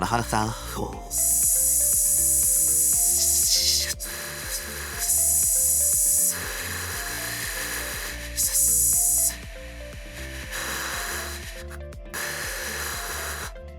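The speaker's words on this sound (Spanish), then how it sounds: "Vamos a perforar" Power drill boring a hole with a fine bit into wood, a loud whining motor that rises and falls in bursts as the trigger is squeezed and eased, steady rhythmic rotation underneath.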